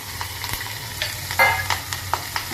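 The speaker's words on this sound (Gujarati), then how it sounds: "તેલ આવી ગયું છે, થોડીક રાઈ ઉમેરી દઈએ, થોડીક હિંગ પણ ઉમેરી દઈએ અને જે આ રીતે મરચાંનું કટિંગ કરેલું છે તે અંદર ઉમેરી દઈશું" Sliced green chilies hit hot oil with mustard seeds and asafoetida, giving a steady close sizzle broken by crackling pops and a few scraping stirs, with no voices.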